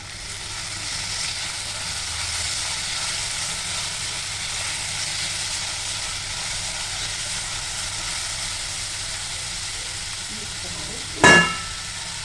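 Tomatoes frying in a pan for pav bhaji, a steady even sizzle held throughout, ending with one brief sharp clatter near the end.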